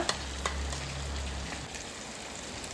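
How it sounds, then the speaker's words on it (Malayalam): Ground masala paste fries in hot butter for butter chicken, giving a steady, close sizzle and crackle with faint stirring and a low hum underneath. "നന്നായി ബട്ടർ നന്നായി ചൂടായി വരുമ്പോൾ നേരത്തെ നമ്മൾ അരച്ച് വെച്ച അരപ്പ് അതിലേക്ക് ഇടുക"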